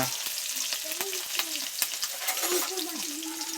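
Spice masala with coriander and garlic sizzles steadily in a pan, with repeated close scraping strokes of a stirring spoon over the frying hiss, and no voices.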